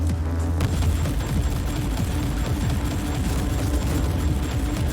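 Enemies blowing apart in the action game Warhammer 40,000: Inquisitor, a steady wall of dense booming blasts and crackling gunfire that fills the whole stretch, loud and close with no pauses.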